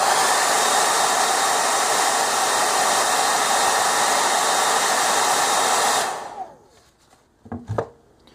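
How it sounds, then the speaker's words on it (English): A hair dryer blows warm air onto a SquareWear open-source wearable electronics sensor board, a loud steady broadband whoosh lasting about six seconds before cutting off, followed by a few faint handling knocks. "I'm using a hair blower to warm it up."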